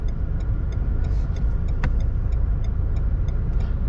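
A 2021 Renault Megane 4 Estate with the 1.5 Blue dCi 115 diesel engine, cruising in fifth gear at about 1300 rpm up a gentle slope, gives a steady low engine and road hum from the cabin with no talk.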